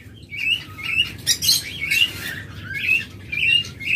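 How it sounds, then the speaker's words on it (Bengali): Lutino red-eye lovebirds chirp in a steady stream of sharp, high tweets and squawks, several birds calling close by over a low background rumble, with no voices. "আমাদের কাছে হিউজ পরিমাণ অফলাইন লাভবার্ড রয়েছে লুটিনো রেড আই"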